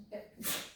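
Someone in a lecture hall sneezes once, a short faint burst with a sharp breathy release at the end, against quiet room hum.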